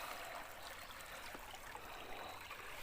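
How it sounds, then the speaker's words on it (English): Water in the main river of a creek flows and trickles in a steady, soft, broad rush, faint and uninterrupted, with no voices. "Righto, down at the main river here."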